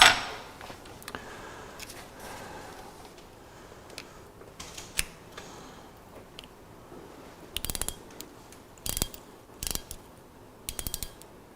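A ratchet torquing a dental implant during guided surgery gives small clustered clicks, faint at first, then a few sharper bursts of rapid ratcheting near the end, close and isolated with no talk.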